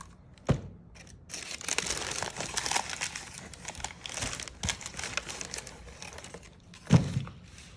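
Cardboard and paper packaging crinkling and rustling while a pair of Nike Air Force 1 '07 shoes in grey and blue is unboxed, with sharp thumps near the start and end.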